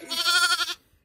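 A single sheep or lamb gives one close, clear bleat lasting under a second, a wavering nasal cry that cuts off abruptly into quiet.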